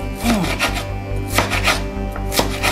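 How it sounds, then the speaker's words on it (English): Jason knife mincing shallots on a board, a run of quick, close chopping taps over steady low background hum. "mince some shallots with my handy dandy Jason knife here"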